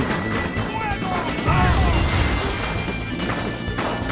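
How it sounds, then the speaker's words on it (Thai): A crashing impact in the Just Cause video game, a loud smash amid in-game chaos, with a voice talking over it. "ระเบิดบึ้ม"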